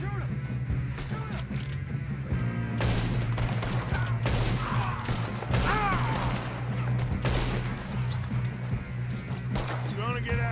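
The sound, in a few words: gunfire in the video game Red Dead Redemption 2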